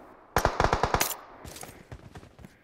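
Gunfire in a battle royale tournament semi-final: a fast, loud burst of about seven automatic shots, then a pause and a looser string of quieter, more distant shots.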